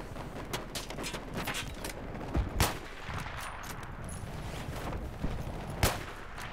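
Repeated gunfire from a tank shooting at the player in Battlefield 3, a steady dense crackle of shots with a few louder blasts standing out, fairly close and continuous.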